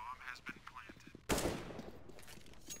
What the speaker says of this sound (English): Suspect takes a shot towards the wooden plank, doesn't quite connect on it.